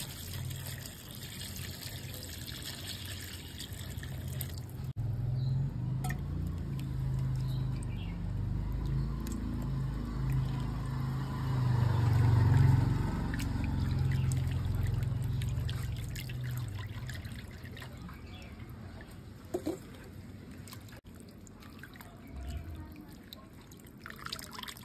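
Pieces of goat head being washed in water for a masoor dal curry, with steady trickling and dripping water and splashing close by, continuous throughout with a louder swell midway.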